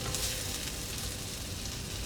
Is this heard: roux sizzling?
yes